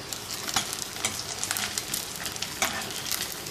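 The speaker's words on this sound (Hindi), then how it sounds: "ऐसे ही माम चॉप्स को फ्राई कर लेंगे।" Mutton chops deep fry in oil, filling the space with a dense, even crackling sizzle and occasional brighter spits, close and alone without talk.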